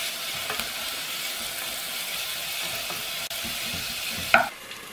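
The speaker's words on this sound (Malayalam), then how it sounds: "തക്കാളി നല്ലപോലെ സോഫ്റ്റ് ആകുന്നത് വരെ വഴറ്റിയെടുക്കണം" Tomatoes sautéing in a pan for chicken curry: a steady, close sizzle and fry hiss with faint stirring scrapes and a sharp clack of a spoon near the end.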